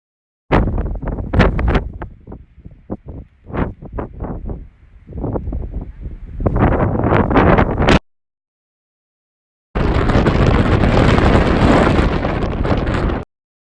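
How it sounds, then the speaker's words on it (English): Strong gusting wind on the summit of Mount Washburn in Yellowstone National Park buffets the microphone in loud, roaring bursts, then a brief silence before another sustained heavy blast. "at the top it was just insanely windy"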